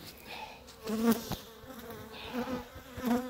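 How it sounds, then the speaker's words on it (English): A large honey bee colony buzzes in a hive in winter, close by, a fluctuating hum with individual bees droning louder at moments over a busy background buzz. "So many bees in there"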